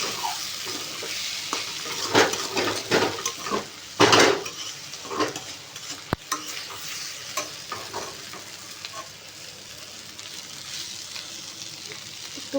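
Egg and fried potato sizzle in a pan on a home stove while a utensil stirs and scrapes against the metal. The clinks are repeated and uneven, and the sizzle stays steady underneath them.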